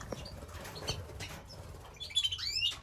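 A cock bird flying in an aviary: soft wing flaps and rustling, followed by a burst of high, quick chirps close by.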